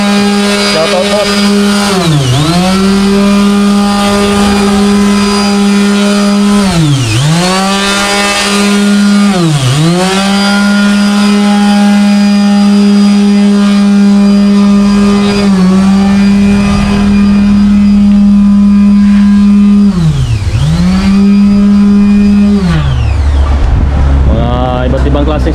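A vehicle engine at an auto shop on Siargao island revs repeatedly in loud rising and falling surges, held steady between each throttle blip, close to the microphone with no voices.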